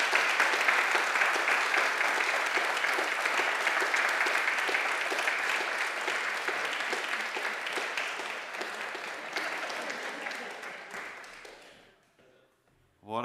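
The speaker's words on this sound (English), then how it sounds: "Everyone will clap and cheer for you." A church congregation at a Sunday morning service bursts into sustained, dense applause with some cheering, loud and steady for about eleven seconds before tapering off into quiet, with a voice resuming at the very end.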